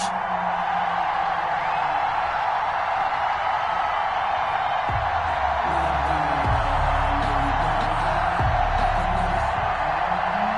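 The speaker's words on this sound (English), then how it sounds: "a moment ago the Dolphins starters were introduced to this home crowd. They're fired up as well as they get set to match up with Russell Wil" A home crowd of Miami Dolphins fans roars and cheers in a PS4 NFL football game as the team faces the Seattle Seahawks, a steady, loud stadium din under play-by-play commentary.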